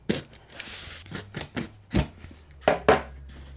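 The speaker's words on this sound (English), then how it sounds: "we're gonna take our little knife situation and we are going to cut open this box" A small knife slices open a cardboard box of haircare products, giving a string of short scraping and tearing strokes with a few sharper taps, close and fairly quiet.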